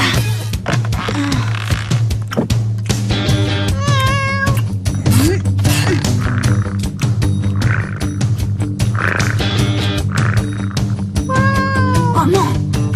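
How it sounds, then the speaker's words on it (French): A cartoon cat meows several times in quick, high wavering cries over steady background music and other comic sound effects, fairly loud and close, with speech heard in places. "Tout ce qu'il nous faut, c'est un chat et une balle."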